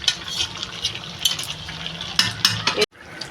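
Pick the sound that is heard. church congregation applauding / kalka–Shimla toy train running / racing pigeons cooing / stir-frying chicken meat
stir-frying chicken meat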